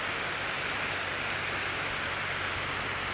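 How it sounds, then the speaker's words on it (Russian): Light rain falls at a beach in Pattaya, Thailand, a dense, even hiss of fine drops that stays steady and close, with no voices heard. "дождик начался."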